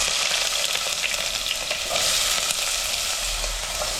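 Green chilies and chopped onion fry in hot oil with a dense, steady sizzle and faint stirring, close and continuous.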